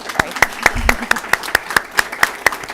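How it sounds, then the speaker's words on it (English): Sharp individual claps ring out at a steady, fairly quick pace from a small gathering at a World Elder Abuse Awareness Day event, each one crisp and distinct rather than a blended roar. "let's give them a round of applause"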